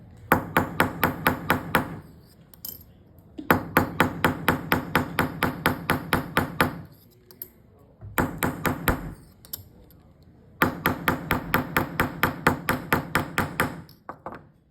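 A small hammer taps repeatedly on a wire rivet to tighten it, sharp ringing strikes in quick rhythmic bursts of about eight to ten blows, separated by short pauses.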